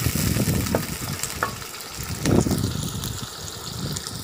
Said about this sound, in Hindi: तो प्याज को हल्का सा भून लेना है, बहुत ज़्यादा इसको नहीं करना।